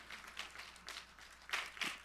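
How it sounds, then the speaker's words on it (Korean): Congregation applause in a church service: a brief, faint patter of scattered clapping that swells and fades in soft bursts, with no voices over it. "우리 삼위일체 되신 하나님께 영광과 감사의 박수를 올려드립니다"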